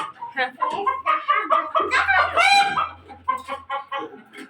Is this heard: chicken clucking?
yes